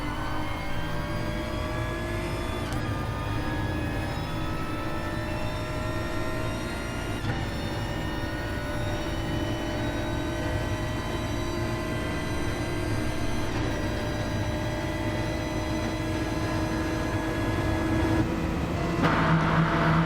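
Race cars at Le Mans in a racing video game, with a constant loud engine drone whose pitch rises steadily and drops back at gear changes, close and continuous without talk.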